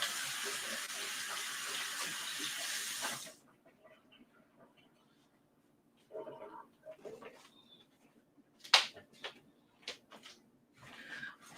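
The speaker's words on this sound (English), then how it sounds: "Let me wash my hands for a second." Washing hands under a running kitchen tap while decorating a homemade banana pudding cake: a steady rush of water for about three seconds, then it stops, followed by faint scattered clatter and rustling nearby.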